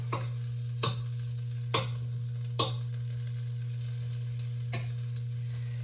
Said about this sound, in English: while the meat is getting brown